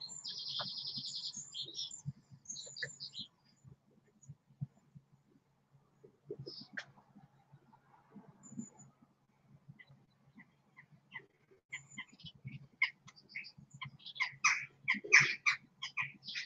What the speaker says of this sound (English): I think the birds are worried.